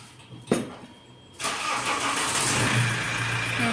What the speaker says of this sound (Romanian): Scuzați, a pornit mașina.